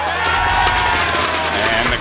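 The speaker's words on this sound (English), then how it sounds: "And the crowd goes wild." Crowd cheering at a StarCraft 2 GSL match, a loud sustained roar of cheers and shouts that fills the clip steadily from start to finish.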